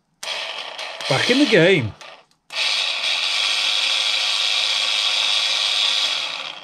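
A SPID RAU light-version azimuth antenna rotator, just repaired after seizing, starts up after a short spoken remark, then runs with a steady, even electric motor whir close by for several seconds.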